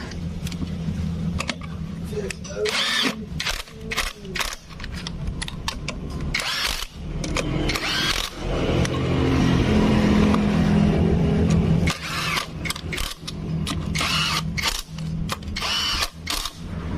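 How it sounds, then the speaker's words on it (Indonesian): An impact wrench tightens the rear wheel bolts during a repair of a wheel that makes a rough noise when spun, giving repeated whirring and hammering bursts over steady engine-like background noise in a workshop. "untuk pengencangan menggunakan impact ini"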